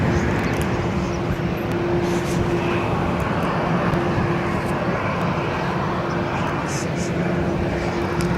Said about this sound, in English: Singapore Airlines A359.